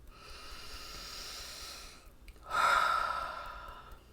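Slow, deep breathing close to the microphone: a long, soft inhale, a brief pause, then a louder, hissing exhale that fades out, during a calm tapping meditation.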